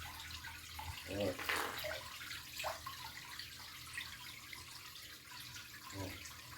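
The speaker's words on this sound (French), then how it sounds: "je vide le tuyau Bon, j'essaie de le vider dans l'eau" Water draining out of a hose into water, a steady trickling and splashing flow with a few gurgles, heard close under a continuous wash of running water.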